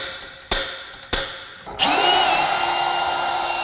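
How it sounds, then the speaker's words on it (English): A power drill boring holes through a metal bracket for vehicle helper air bags: two short trigger blips, then a loud, steady high whine as the bit bites in and runs continuously. "it'll make drilling out those other holes easier and more accurate"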